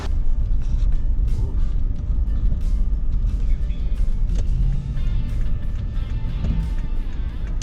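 An International Scout rolls down the road, heard as a loud, steady low rumble of engine and road noise inside the vehicle, continuous for the whole stretch.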